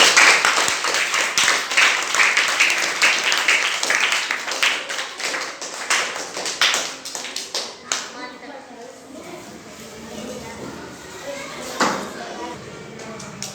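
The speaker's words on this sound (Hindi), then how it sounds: "बजाइए इनके लिए ताली" Classroom of math students clapping for a classmate who gave a correct answer, dense close clapping for about eight seconds that thins into scattered claps and quiet room noise with a brief burst near the end.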